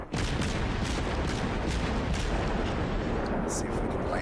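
Naval gunfire from a German cruiser in the World of Warships video game, a series of heavy booming salvos over a dense continuous rumble, with brief sharp cracks spaced through it and no talk.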